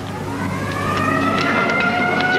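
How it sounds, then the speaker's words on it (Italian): A steady siren wails continuously for a couple of seconds, loud and close, its rising tone sounding alone without any voices. "Suona la sirena."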